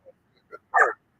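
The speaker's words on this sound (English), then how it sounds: "I don't even know if these dogs are barking at" A couple of short soft yips followed by one louder bark, close by, with silence between.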